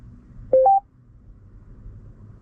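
Two short dialing tones, one quickly after the other, from a Kia's on-board navigation system as it places a call, clear against a quiet low cabin rumble.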